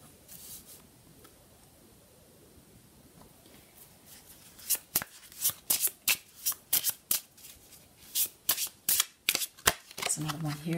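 A deck of cards being shuffled up close, first a soft low rustle, then a burst of about a dozen sharp riffling snaps in quick succession, ending in a brief flutter.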